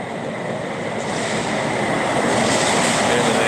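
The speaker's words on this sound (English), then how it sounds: "There's a truck coming." A large truck rumbles past on a street, a steady, loud broadband roar of engine and tyres that swells slightly toward the end, with no talk over it.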